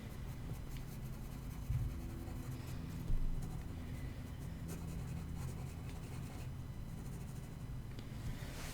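A slightly sharper, harder pencil rubs steadily across paper in an observational drawing of leafy blossom. It makes a continuous soft scratchy hiss, close and quiet, with a few slightly stronger strokes and no talking.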